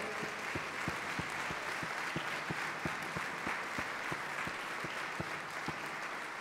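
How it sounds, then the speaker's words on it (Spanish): Church congregation applauding together, a steady dense wash of clapping with a few louder individual claps marking a rough beat, sustained and fairly near throughout. "Demos un aplauso al Señor"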